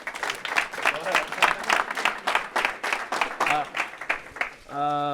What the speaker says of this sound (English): So just a quick round of applause for Chef Zae.